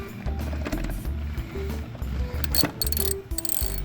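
A hand ratchet clicks in quick repeated bursts while loosening bolts torqued to spec on a Harley Sportster, close up and fairly loud, with short pauses between strokes.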